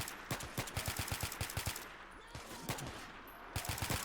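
M16 rifles fire in a Vietnam-era video game battle against NVA soldiers, with rapid automatic bursts of sharp shots, a short lull, then another burst, somewhat distant and moderate in level.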